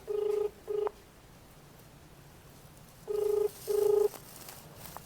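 Two pairs of electronic telephone keypad tones, beeping in short bursts separated by a quiet pause.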